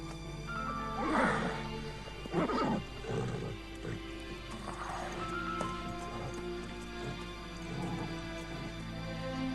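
A horse neighs and whinnies several times at moderate distance over a steady low hum, with no talking.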